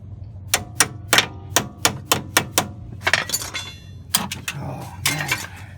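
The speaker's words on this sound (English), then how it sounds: "Let me tap it with this hammer." Hammer taps on a BMW 535i lower control arm: a series of sharp metallic strikes, about a dozen, in uneven bursts, close and clear.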